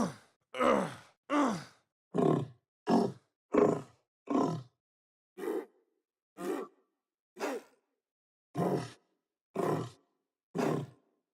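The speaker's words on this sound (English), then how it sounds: "I experimented with using a vocoder with my voice and different animal sounds set as the carrier." Monster roars built from a vocoder driven by a human voice with animal sounds as carriers, a series of about a dozen separate growling, groaning bursts spaced out evenly, loud and close.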